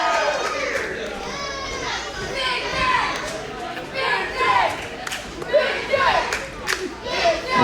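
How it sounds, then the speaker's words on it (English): Wrestling arena crowd cheering and shouting for Big Dave at a live match, a dense roar of voices with rising yells swelling toward the end. "The crowd coming alive now for Big Dave."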